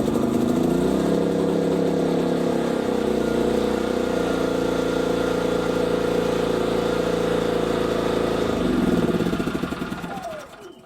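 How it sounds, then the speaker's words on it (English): A They HY3200SEI 3200 W inverter generator runs after a pull start, giving a steady, loud mid-pitched engine drone with a harmonic hum that holds evenly for about nine seconds before winding down at the end. "and then we can pull start the generator."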